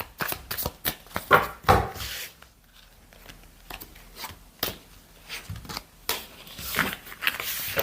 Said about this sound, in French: On va regarder, on va recouvrir ces cartes.